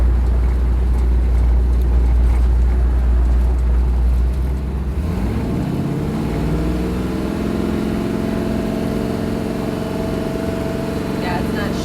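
A wagon drives with a transmission that will not shift into second gear, its engine droning steady and strained at first, then a rising whine that climbs slowly as the car keeps going, with voices talking over it.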